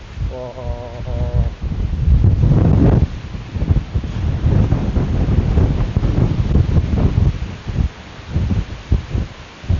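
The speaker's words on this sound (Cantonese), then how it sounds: "好大風啊！" Strong typhoon wind during a Signal No. 8 storm buffets the microphone in loud, continuous roaring gusts, with excited voices calling out over it.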